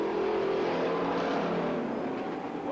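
Race cars on a short oval track during the final laps of a night race give a continuous loud engine roar that holds steady and fades a little at the end, with no commentary over it.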